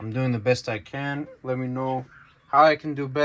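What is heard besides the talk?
No everyday noise stands out behind the speech.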